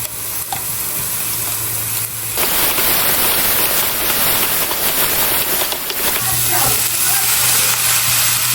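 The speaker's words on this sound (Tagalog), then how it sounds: "nagpainit na po tayo nitong mantika at magigisa na po tayo nitong ating mga bawang at sibuyas" Garlic and onions sizzle loudly as they hit hot oil in a pan, a strong steady hiss that sets in abruptly and stays constant, with a quieter hum before and after.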